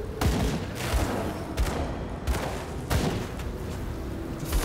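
Enemy gunfire from the action RPG Grim Dawn, a steady volley of sharp, punchy shots repeating roughly every half second, loud and close, with no talking over it.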